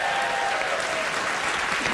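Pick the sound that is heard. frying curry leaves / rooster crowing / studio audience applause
studio audience applause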